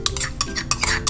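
Garlic and chili are stirred and mixed in a bowl, a quick run of close, bright scraping and clinking strokes repeating in a fast, uneven rhythm, with no voices.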